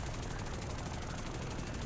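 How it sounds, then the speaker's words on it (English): A helicopter flies in a tank combat video game, a steady, faint rotor chop with mechanical whir that stays constant and unbroken across the moment. "Oh, that's a helicopter."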